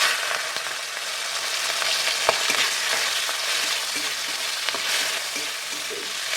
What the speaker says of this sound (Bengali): চিংড়িটা প্রথমে ভেজে নিই।